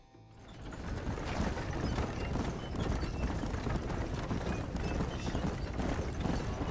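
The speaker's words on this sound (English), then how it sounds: "Mira mi caballo, mírate pues." Horse hooves clip-clopping continuously in the western game Red Dead Redemption, a dense steady trot with some clattering mechanical rattle around it, loud and close throughout.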